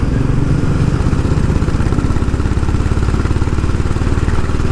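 A Honda H'ness CB350 motorcycle engine pulling hard after a downshift, a loud, close, steady thumping exhaust beat with a fast rhythmic pulse and no talking.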